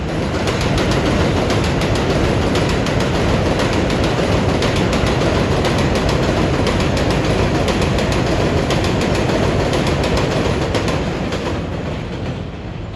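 An NYC 7 line subway train rolls steadily between 82nd Street and Flushing, a loud, continuous roar of wheels and rail with rapid clickety-clack, heard close and unbroken with no talking.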